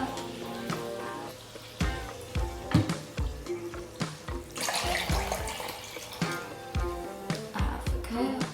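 Club soda poured into a glass for a summer mocktail, a steady close fizzing and trickling stream broken by repeated clinks and knocks of glass and bottle.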